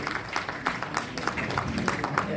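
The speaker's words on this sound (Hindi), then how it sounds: "एक बार जोरदार तालियों की गड़गड़ाहट होनी चाहिए।" An audience at a journalists' association state meeting in Raipur applauds with steady, fairly loud clapping in rhythmic bursts.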